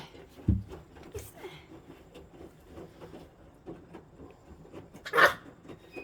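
A Maltipoo puppy gives a couple of short, sharp barks, one early and one near the end, over quiet indoor background with faint rustling and soft talk.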